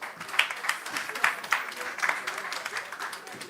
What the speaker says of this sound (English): Please, can the panel be given a round of applause?